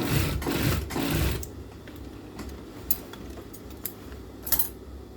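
A sewing machine stitches the hip seam of a garment being altered, a short, close, loud whirring run that stops, followed by a few faint ticks and clinks.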